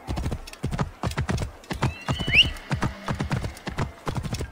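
Horse hooves in the game Assassin's Creed Origins clip-clop in a quick steady rhythm, close and clear, and the horse lets out a short whinny midway.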